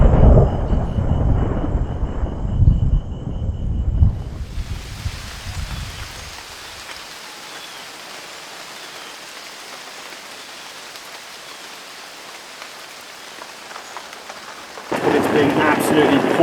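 A thunderstorm in a Madagascar rainforest, with a deep rolling thunder rumble at first, then steady heavy rain hissing down, growing louder again near the end.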